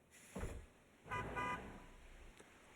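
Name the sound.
car horn honking in video game Natsu-Mon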